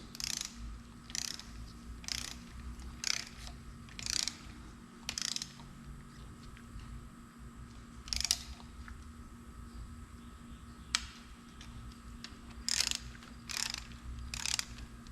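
A hand ratchet tightening bolts on the engine of an NBS Stepside Silverado truck as it goes back in: about a dozen short bursts of quick, close metallic clicking with quiet gaps between them and no speech.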